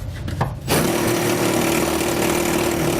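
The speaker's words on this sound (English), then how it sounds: "I'm going to come back with that final 7/16 inch drill bit and enlarge that hole" A steady, loud grinding drone of a 7/16-inch drill bit enlarging a hole in a Winnebago's metal frame starts abruptly after a brief quiet moment and continues without pause.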